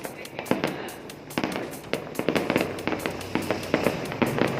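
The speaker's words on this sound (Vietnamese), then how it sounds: "xem bắn pháo hoa này." Fireworks and firecrackers burst repeatedly at a New Year's Eve celebration in Hoang Su Phi, in the highlands of Ha Giang, Vietnam, with sharp cracks and booms coming in irregular rapid clusters, loud and fairly close, and no talking.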